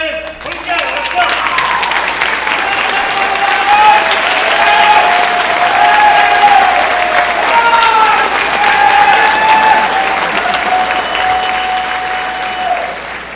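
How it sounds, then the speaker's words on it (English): Audience at a school freshman acceptance ceremony breaks into sustained, loud applause and cheering that fills the hall for the full stretch, with a crowd whistling and calling out over the steady clapping. "I just have to make sure I get applause when I come down."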